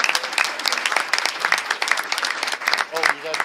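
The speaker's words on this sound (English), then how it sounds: "Let's give Jay Webb another round of applause." A school event audience gives a round of applause, dense and steady clapping throughout the short burst.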